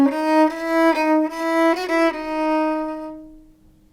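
A short, calm melodic subject from a Bach fugue is played as a single sustained line of a few smoothly connected notes, clear and alone, ringing out and fading at the end.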